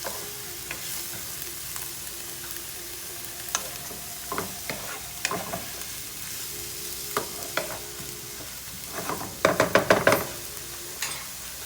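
Chopped garlic sautéing in a pan, with a soft steady sizzle broken by the scrape and knock of a utensil stirring, the clatter building into a quick burst of stirring near the end.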